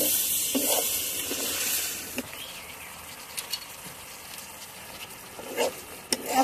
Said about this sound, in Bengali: এখন আমি মুগ ডালটা ঢেলে দেব।